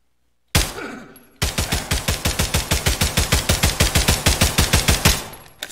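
Rapid automatic gunfire from Combine soldiers in Garry's Mod: a single shot, a short pause, then a long, steady burst of evenly spaced loud rounds, close and without talk.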